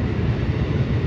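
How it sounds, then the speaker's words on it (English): At Secaucus station in New Jersey, a passing train gives a short, steady low rumble with no voices over it. "Oh, that train is going to Chicago."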